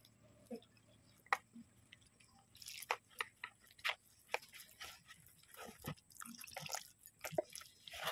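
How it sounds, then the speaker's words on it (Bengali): Cauliflower pakora batter being mixed by hand in a home kitchen, with soft wet squishes and sticky drips coming in irregular bursts, close and fairly quiet, no talking. "এটা আমি ব্যাটারটা একটা তৈরি করে নেব। এটা আমি হাত দিয়েই মাখছি।"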